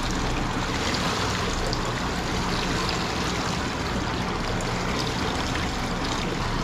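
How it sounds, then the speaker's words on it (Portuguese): Water pours steadily out of a plastic fish bag into a large aquarium, a continuous rushing splash that fills the whole stretch without pause. "Vou soltar um pouco dessa água aqui, galera."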